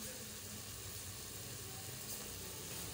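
Black chickpeas frying in cooking oil in a pan, giving a steady, even sizzle that holds at low volume without a break and with no talking.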